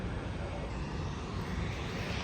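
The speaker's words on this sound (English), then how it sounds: "There's the 753 taxiing out." An airliner taxiing at Atlanta airport, a steady broad jet engine roar that stays even and fairly distant throughout, with no talking.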